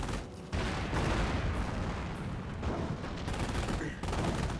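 Anti-tank guns and Hetzer tank destroyers firing in a Company of Heroes match: a dense, continuous barrage of gunfire and explosions, loud and sustained with heavy low rumble throughout.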